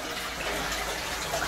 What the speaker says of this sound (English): Then you wash your hands.